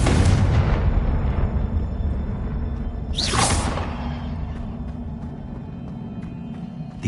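A Confringo fire spell is cast in Hogwarts Legacy, giving a rising whoosh that bursts into a loud booming blast. A rumbling game soundscape continues beneath it, and no one speaks.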